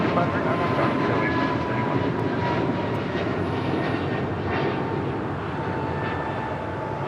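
A JetBlue Airways Airbus A321 takes off at Los Angeles International Airport, a steady loud engine roar filling the whole stretch, with radio chatter mixed into the background.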